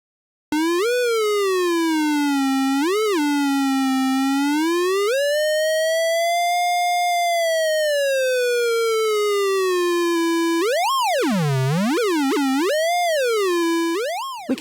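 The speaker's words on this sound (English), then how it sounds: "We can hear the pitch change with the shape of the generator." A steady tone from an Arturia ARP 2600 V software synth, with a modulation generator sweeping the VCO2 pitch up and down in smooth wobbles, slow bends and quick warbling swoops, sustained and loud throughout without any talking.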